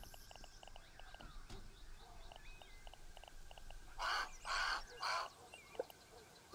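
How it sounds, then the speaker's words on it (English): Crow cawing in the survival video game Grounded: three loud harsh calls in quick succession near the end, standing out over a quiet background of faint game ambience and small chirps. "That sounds like a crow."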